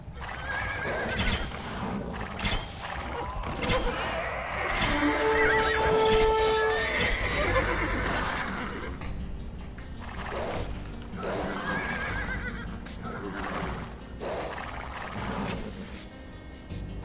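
Horse neighing in the video game Age of Empires II: a couple of whinnies ring out over busy game sounds with hoof clip-clop, the first around the middle and a fainter one later.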